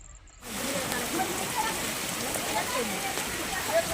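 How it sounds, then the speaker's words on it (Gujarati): Rain begins falling on farmland, a dense, steady hiss of drops that starts suddenly after a brief quiet and continues evenly at moderate loudness. "મિત્રો વરસાદ આવી જ છે"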